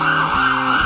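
An ambulance siren wails steadily and loudly for about a second, a continuous rising and falling tone close by with no voices.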